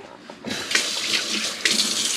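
Cold tap water splashes onto a dish towel held under a kitchen faucet, a bright hissing spray that starts abruptly after a short quiet moment and surges twice as the cloth is moved under the stream.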